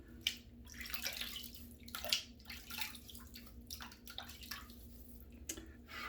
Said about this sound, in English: So let me just wet the face.